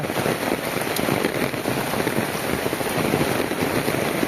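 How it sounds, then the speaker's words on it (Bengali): Steady rain pours down in a rural village on a wet day, a dense continuous hiss of drops hitting surfaces, loud and close, with no voices over it. "বৃষ্টি এসেছে"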